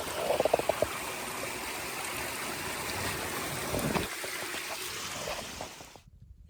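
A rushing creek on the Appalachian Trail flows steadily and close by as a hiker crosses, a constant gurgling wash with a few splashing footsteps early on, fading out abruptly near the end.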